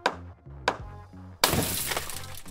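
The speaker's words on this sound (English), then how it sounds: "Imagine if safety glasses shattered when you worked." Glass shatters in one loud, sudden crash that spreads into a bright, lingering spray of fragments, following a few short low tonal notes.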